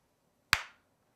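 A single sharp hand clap, close and crisp, with a short decaying tail against an otherwise quiet room.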